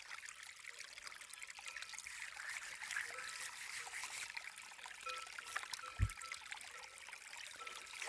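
Water trickles faintly onto a stone at a lakeside, a soft continuous dribble under quiet ambience, with one brief low knock partway through.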